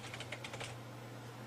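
Quick burst of computer keyboard typing as a DOS flash command is entered during a Lite-On drive recovery, clicks close and crisp for under a second, then a steady hum remains.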